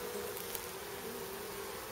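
A steady, dense buzz of many honey bees humming together in a hive, continuous and fairly faint, with no voices.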